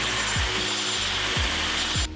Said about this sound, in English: I'm just gonna hit it with the blow dryer quick